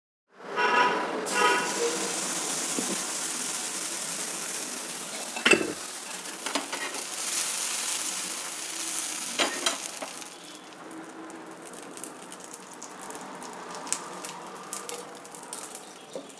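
Dosa batter cooks on a hot griddle wiped with oil, giving a steady broadband sizzle, loud at first and easing to a softer hiss after about ten seconds, with occasional scraping clicks and no talk.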